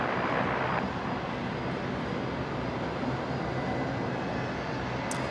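A Saab turboprop on the ground at Brisbane airport makes a continuous, broadband engine roar that stays steady and fairly distant for the whole stretch, with no one talking over it.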